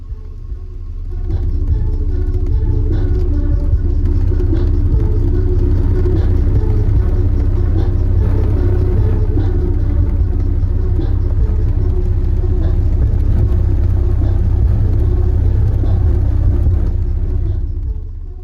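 Deep, steady 32 Hz sub-bass drone from a single 12-inch car subwoofer with the trunk open, loud and sustained for most of the stretch, with faint rattling of the car body.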